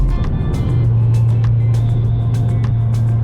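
A Lexus RC F cruising on the highway through North Carolina produces steady loud low road and engine drone from inside the cabin, with faint ticks and clicks over it and no talking.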